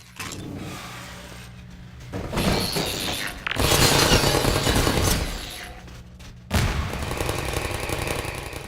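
Gunfire in the Half-Life 2 video game, heard as loud bursts of shots and crashing impacts that come in several separate blasts over a rumbling in-game background.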